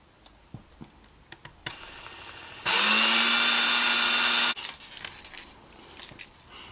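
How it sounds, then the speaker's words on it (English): A small power drill whirs loudly for about two seconds boring a hole through a vein, preceded by a quieter motor hum and surrounded by light ticks and handling noises. "I could drill a small hole through this vein"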